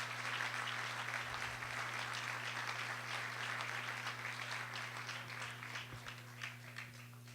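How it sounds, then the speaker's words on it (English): Steady applause fills the room at an awards dinner, a dense, even patter of many hands clapping heard over a faint constant hum, with no voices over it. "Round of applause for Ms. Barrow."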